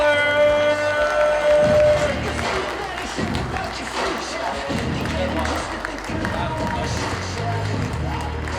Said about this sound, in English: Big round of applause for Corey Ballard.